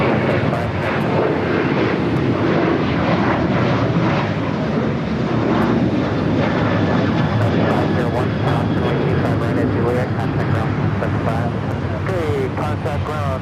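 A United Boeing 737-800 jet taxis across the runway at LAX, its engines producing a loud, continuous roar that fills the whole stretch without letup, with a voice speaking over it.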